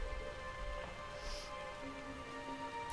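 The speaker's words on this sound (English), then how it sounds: "Oh man, it's raining." Soft, steady rain falls faintly in a video game, a gentle continuous patter under a quiet background hum.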